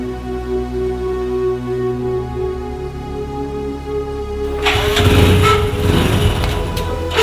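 Motorcycle engine warming up: a steady idle hum that becomes a louder, rougher rumble of revving partway through, close by with no talk.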